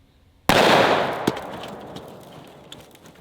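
A single loud, sharp Desert Eagle .50 AE pistol shot cracks out, followed by a long fading echo and a few small clicks afterward.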